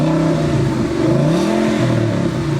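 A 2014 Ford Mustang GT of the S197 body style revs its engine close by, a loud continuous roar whose pitch rises and falls through the revs, with no talk over it.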